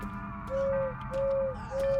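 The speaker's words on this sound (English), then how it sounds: "He's hooting and hollering. It seems like he hoots 5 times, then stops." A creature in the horror video game Crow Country gives three clear, evenly spaced hoots, each a steady pure tone, over a low droning ambience.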